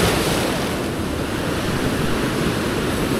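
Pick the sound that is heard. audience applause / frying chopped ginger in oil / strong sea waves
strong sea waves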